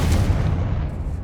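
Bombarda and Confringo spells go off in Hogwarts Legacy with a loud, dense blast that rumbles for about a second, then fades slightly.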